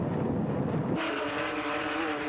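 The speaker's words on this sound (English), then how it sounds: "The diesel engines so much quieter than the petrol engines" A low diesel powerboat engine rumble drones steadily, then shifts to a smoother, higher hum as a boat motor passes nearby.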